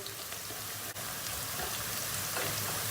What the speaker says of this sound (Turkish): Tam bu aşamada içine bir yemek kaşığı domates salçası atıyoruz